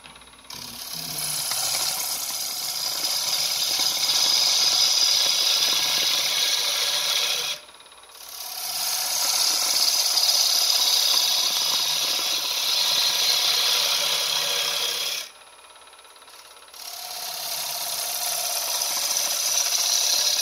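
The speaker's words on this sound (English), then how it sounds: "work on the sides with my regular bow gouge" A bowl gouge cuts the sides of a flamed box elder bowl spinning on a wood lathe, making a loud continuous scraping rasp in three long passes separated by short quiet gaps.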